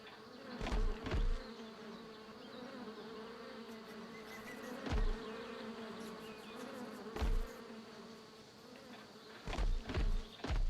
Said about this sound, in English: You guys hear bees?